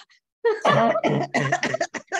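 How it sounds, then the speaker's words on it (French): A short burst of harsh coughing, several rough hacks in quick succession, close and fairly loud after a brief silence. "Je vais tousser."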